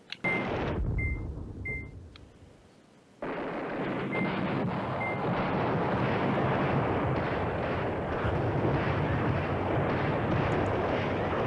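A road is bombed and shelled in the Command Ops 2 wargame, producing a sustained, heavy, rumbling barrage. A short burst and some beeps come first, then after a brief lull the barrage returns loudly and continues unbroken.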